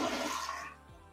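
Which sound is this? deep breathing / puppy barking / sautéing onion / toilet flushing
toilet flushing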